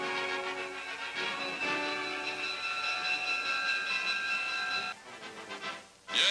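A train in a 1942 wartime newsreel, with a steady chugging rumble and a sustained whistle-like tone, cut off briefly before the sound resumes near the end.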